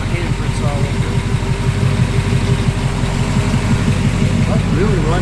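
A 1970 Chevrolet C10 pickup engine idles close by in a steady, even low rumble, and a faint voice comes in near the end.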